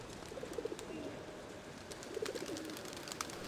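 Feral pigeons coo in two soft, brief bursts of low rounded calls over a steady background hiss, with faint scattered chirps in between.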